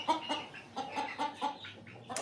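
An Easter Egger chicken on a composting farm gives a rapid series of close, soft clucks in short bursts, with a few brief pauses in between.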